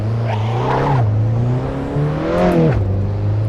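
Small Abarth 500 hatchback engine in Assetto Corsa pulling out of the pit lane during a practice session, a loud steady buzzing drone that rises and falls with throttle, with one sharp upward rev before dropping back, alone with no talk.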